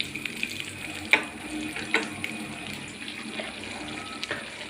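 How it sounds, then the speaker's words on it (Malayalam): Cashews sizzle in hot oil as a garnish for carrot halwa, a soft continuous frying hiss with a few sharp clicks and taps of a spoon against the pan. "കശുവണ്ടിയും മുന്തിരിയും കൂടി എണ്ണയിൽ മുരിയിച്ച് ചൂടാക്കി ഇടാം"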